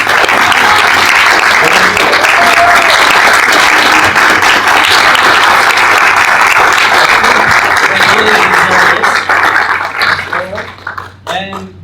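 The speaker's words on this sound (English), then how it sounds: "I would want a very good applause for all of you" A large audience at a youth roundtable on peace and justice gives loud, sustained applause. The dense clapping runs for about ten seconds, then thins and fades, with a few voices near the end.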